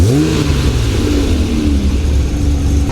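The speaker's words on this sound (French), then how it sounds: "C'est un V12, c'est un V12." An Italian V12 car engine revs loudly nearby, pitch rising and sweeping through a couple of throttle blips before settling into a rumbling, steady drone.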